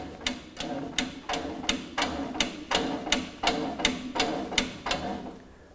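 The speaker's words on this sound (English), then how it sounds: "I then stand with a straight back and pump our handle." A manual hydraulic drum lifter for Europallets being pumped by hand gives a steady run of about a dozen sharp, evenly spaced mechanical clacks, close and clear with nothing else behind them.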